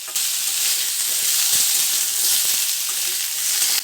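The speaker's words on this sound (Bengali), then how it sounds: "কুমড়োটা এই কড়াইয়ে দিয়ে বেশ লাল লাল করে ভেজে নেব।" Chopped pumpkin fries in a wok with a loud, continuous sizzle and intermittent scraping taps as it is stirred, heard close with no voices.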